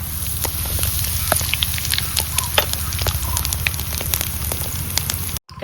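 Asafoetida goes into hot oil that already holds mustard seeds, a tempering for turmeric pickle in a village kitchen, giving a continuous close sizzle with scattered sharp crackles and pops before it cuts off abruptly near the end.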